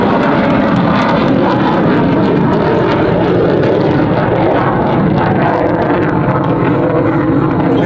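F-15 Eagle fighter jet flying at an airshow in London, a loud, continuous roar of jet engine noise filling the whole stretch, steady and close, with faint crowd voices underneath.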